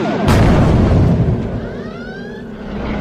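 Phaser weapon fire followed by a heavy explosion boom, a sharp loud burst that rumbles and fades over a few seconds.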